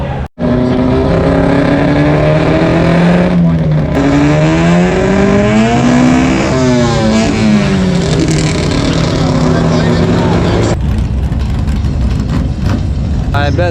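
Fast cars rushing past on a road, engines swelling loud and close with rising and falling pitch as they go by, one after another, forming a continuous roar with a brief dip near the start.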